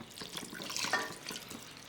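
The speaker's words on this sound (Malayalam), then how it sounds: "1/2 കപ്പ് വെള്ളം ഒഴിച്ചു കൊടുക്കാം." Half a cup of water is poured into a pot for chicken and tapioca biryani, a short, close splashing trickle at moderate volume.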